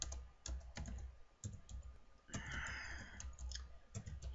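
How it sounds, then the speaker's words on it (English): Someone types on a computer keyboard in a run of quick, uneven clicks with short pauses. A denser burst of keystrokes comes near the middle. The sound is close and moderately quiet, with no talk. "I'm having trouble typing."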